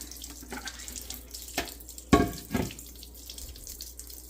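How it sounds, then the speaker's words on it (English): Tap water runs into a bucket while curing olives are rinsed, a soft steady flow with a few brief louder splashes partway through, close by and without talk. "And then we're putting our water back in it."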